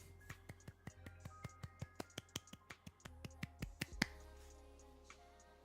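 A single person claps hands at a streaming desk, a run of about twenty sharp, close claps in a quick, fairly even rhythm that pauses briefly before a last louder one, then stops, with no talking.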